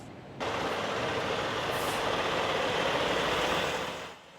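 Large trucks and heavy vehicles at a roadside police inspection, a steady broadband engine and road rumble that rises abruptly, holds loud and fairly close, then fades near the end with a brief hiss like an air brake.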